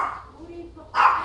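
Dogs at a dog kindergarten during rest time, a short burst of barking and yips close by, mixed with speech.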